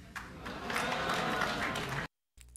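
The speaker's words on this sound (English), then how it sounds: "The fat guy right here is the only one clapping." Applause from a Nintendo Direct audience, with one person's hands carrying most of the clapping in a sparse room. It runs steadily for about two seconds, then cuts to silence and a brief tail of other sound.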